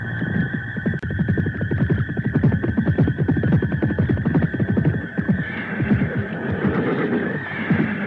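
A horse neighs at night, a long, loud, shuddering whinny with rapid pulsing vibrato lasting several seconds, trailing off into a fainter breathy tail.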